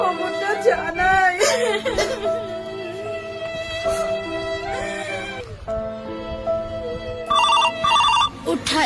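A phone ringtone plays as an outgoing call goes through, a sustained repeating electronic melody with steady tones and a few short beeping bursts toward the end. Voices and laughter come in over it.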